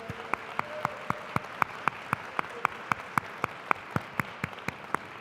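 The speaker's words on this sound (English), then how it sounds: "Give them a round of applause, please" A conference general-session audience claps in a sparse, strikingly even rhythm of single sharp claps, about three a second, fairly faint against a quiet room.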